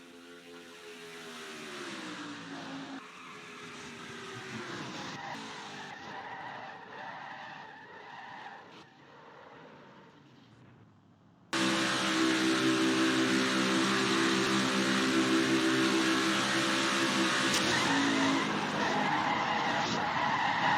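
Racing drone crash replayed in real time: a loud, continuous high-pitched motor whine with shifting pitch that drops out, then returns abruptly louder and harsher with broadband roar and buzz.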